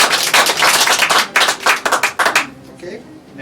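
Short bursts of clapping from a mind-reading show audience as a volunteer is called up, arriving in uneven, choppy waves before thinning out into near silence.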